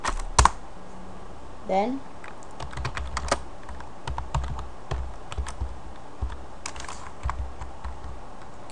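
Typing code in Notepad on a computer keyboard: a steady patter of keystrokes and occasional louder clacks runs throughout, close and clear, while someone talks briefly.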